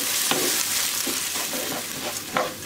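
Rice and toasted vermicelli are stirred in a pan for a Turkish pilaf, giving a steady close sizzle broken by a few scraping strokes of a spoon.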